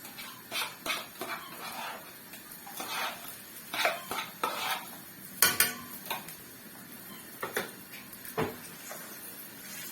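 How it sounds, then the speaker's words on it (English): Blended onions going into red palm oil in a pot bring irregular scraping and clinking from a spoon against the pot, with short bursts of stirring and a soft sizzle in between. "So we will put the onions, the blended onions in there."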